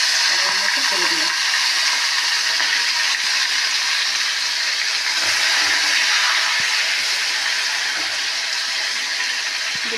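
Shrimp coated in salt and turmeric dropped into hot oil, crackling with a loud, steady broadband hiss that holds throughout at close range.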